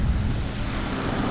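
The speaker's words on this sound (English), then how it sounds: "the ocean is beautiful" Ocean surf washes steadily onto the beach at Punta Cana in the Dominican Republic, a broad continuous rush blended with wind buffeting the microphone, with no voices.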